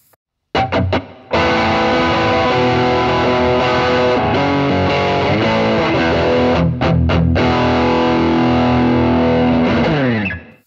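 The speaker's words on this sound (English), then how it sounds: "And this is the high gain sound." A heavily distorted, high-gain electric guitar through a modeler chugs loud palm-muted chords and riffs, ending on a long sustained crunchy chord that cuts off.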